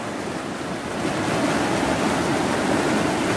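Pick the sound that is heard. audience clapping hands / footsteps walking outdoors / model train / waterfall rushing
waterfall rushing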